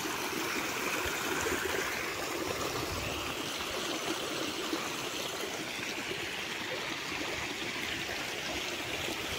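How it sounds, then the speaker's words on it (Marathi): Floodwater from heavy rain runs across a farm field, a steady, broad rushing and gurgling flow that stays constant and fairly close throughout, with no voices. "शेतात एवढं पाणी आहे बघा आमच्या अक्षरशः ओढतंय पाणी"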